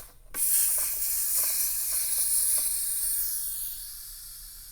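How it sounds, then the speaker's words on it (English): An air compressor on a pneumatic heat press vents its pressure in one sudden, loud, bright hiss that holds steady for several seconds and then slowly fades, with faint clicks underneath. "go ahead and release the pressure from the air compressor"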